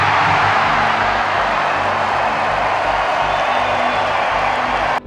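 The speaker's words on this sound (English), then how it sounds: "That's when the crowd erupts." In an anime scene set in Loguetown, a huge crowd erupts into a dense, loud roar of cheering that holds steady and then cuts off abruptly.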